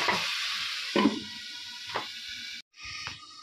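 Shrimp sizzling and frying in a pan, a steady bright hiss with a few louder stirring scrapes and spatters spaced through it, close by, with a brief drop out near the end before the sizzle resumes.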